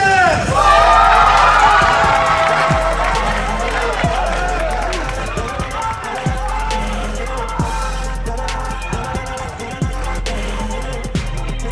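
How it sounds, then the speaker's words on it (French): Crowd cheering and yelling at a French trophy presentation for the green tribes, loud and sustained across the whole stretch, with shouts and whoops over a steady low hum and occasional thumps. "vous pouvez l'applaudir"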